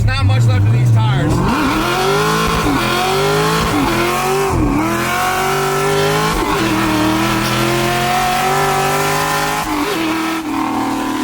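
A car engine with no mufflers revs hard and loud, pitch rising and falling in repeated surges as the worn tires spin, raw and close throughout.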